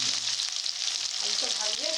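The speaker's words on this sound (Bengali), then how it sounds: "এবার ভাজি করছি।" Vegetables for a Bengali-style vegetarian chhanar dalna fry steadily in a pan, a loud, continuous sizzle with faint scraping of stirring, heard alone without talk.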